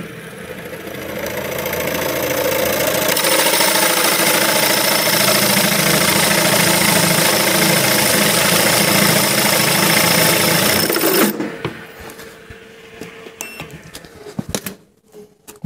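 An allsome BG 516809 brushless 400-watt drill press drills at 800 rpm, giving a loud, steady grinding whir for about eleven seconds that cuts off abruptly, followed by scattered clicks and handling knocks.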